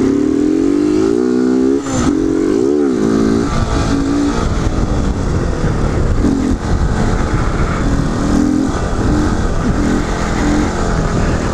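A motorcycle doing a wheelie revs hard and loud throughout, its engine pitch rising and falling through repeated throttle blips, with no talk over it.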